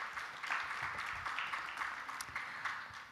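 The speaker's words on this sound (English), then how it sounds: "A big round of applause to Oksana Blazhivska, member of the High Council of Justice." An audience at a panel on international criminal tribunals gives a brief round of applause for a member of the High Council of Justice, steady and fairly faint, as if heard from across the room.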